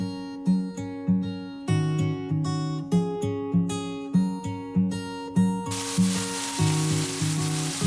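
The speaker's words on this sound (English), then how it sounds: "I'm gonna go ahead and add our onions and let those sweat out with our beef" Onions sweating with ground beef in a pan give a sizzle that sits mostly under loud rhythmic background music, then comes through alone as a steady, even frying hiss near the end.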